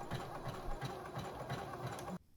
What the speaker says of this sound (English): the 2 layers of fringe need to be sewn together